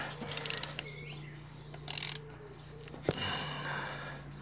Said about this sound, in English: So I've got one hand on the camera and one hand on the spanner.